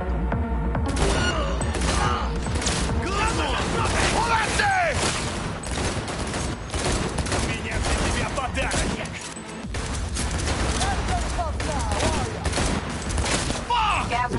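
Gunfire in the video game Cyberpunk 2077, a loud, sustained fusillade of rapid shots and bursts with booming impacts, mixed with voices talking over the fighting.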